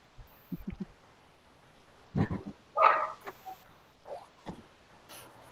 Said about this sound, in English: So I've got dogs that I'm contending with.